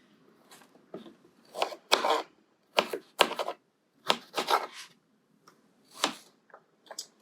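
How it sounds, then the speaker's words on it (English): A knife roughly chops red onion and carrot on a board in quick, irregular bursts of crisp, close thuds and cuts, with short pauses between the runs. "So we basically just rough chopping this"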